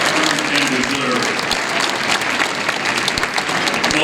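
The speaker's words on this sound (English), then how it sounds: "Let's give those scholarship recipients another round of applause, please." Audience at an annual event applauding scholarship recipients, dense sustained clapping from a large crowd that stays loud and even from start to finish.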